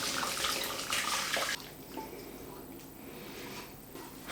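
Onion soup stock, fresh from a depressurised pressure cooker, pours through cheesecloth in a steady splashing, trickling stream that is loud at first, then eases into a softer, lighter flow of liquid and drips.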